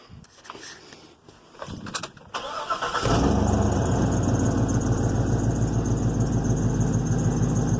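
Chevy W4500 dump truck with 217,000 miles and a Flowmaster exhaust starts up after a few handling clicks and jingles, then settles into a loud, steady, rumbling idle up close.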